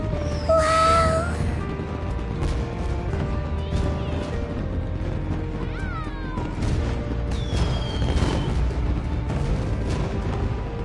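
Video game fireworks bursting close by, a few booming cracks and whistling rises spread over the scene, over a steady background of game ambience.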